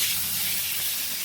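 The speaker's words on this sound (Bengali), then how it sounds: "একটু লাল লাল করে ভেজে নেব।" Luchi, round puffed flatbreads, frying in hot oil until reddish for a lunch of luchi and aloo dum, giving a steady close hiss and sizzle throughout with no talk.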